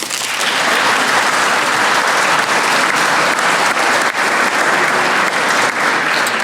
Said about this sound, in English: please give them a round of applause, the UMass Lowell Space and Science program